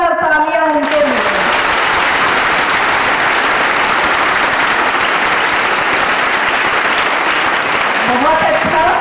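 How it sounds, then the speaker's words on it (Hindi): Loud, sustained applause from a school audience cheering successful students at Gyan Ganga Inter School in Daudnagar, Bihar. It swells almost at once and fills the room for about eight seconds, with brief speech at the start and end. "एक बार जोरदार तालियां उनके लिए"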